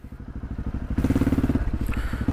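A KTM 640 LC4 single-cylinder motorcycle chugs with a steady, loud thumping exhaust beat that rises slightly as it rides off.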